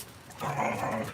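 A German Shepherd growls close by for about a second, a low rumbling snarl rising midway, with a person briefly speaking in a room.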